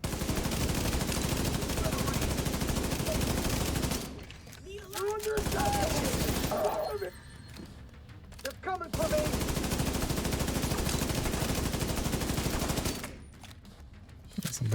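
Rapid bursts of video game gunfire, dense and loud, broken by a few brief pauses with a voice speaking in between.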